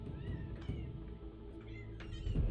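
A cat meows a few times, faint and drawn out, against a low, rumbling background hum, with no clear talk.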